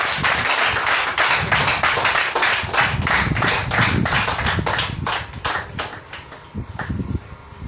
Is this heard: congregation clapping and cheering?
yes